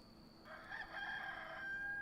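A rooster crows once in the Enshrouded video game, a single drawn-out, fairly faint call heard alone over a quiet background.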